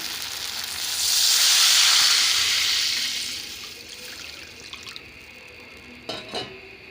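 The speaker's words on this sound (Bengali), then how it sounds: "মশলা কষানো হয়ে গেছে, দিয়ে দেব জল।" Water goes into hot fried spice paste in a pan for a pangas fish curry. It gives a loud, rising hiss that peaks and fades over a few seconds, followed by a couple of light utensil knocks.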